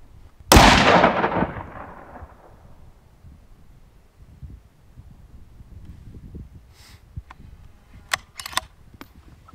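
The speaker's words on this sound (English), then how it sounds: "now we're gonna shoot off the trekking poles with the Quick-Stix adapter" A single loud rifle shot fired off trekking poles fitted with a Quick-Stix adapter during a hunting rest comparison cracks sharply near the start, then decays into quiet outdoor rumble with a few faint clicks later.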